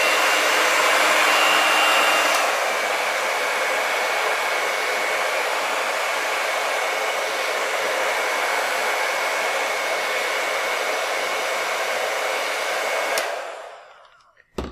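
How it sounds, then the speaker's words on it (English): A hair dryer runs steadily at close range for about thirteen seconds, drying fresh paint on a mixed media poppy artwork, a loud continuous whoosh that cuts off and fades out near the end. "I'm actually going to dry it with my blow dryer so that it dries faster"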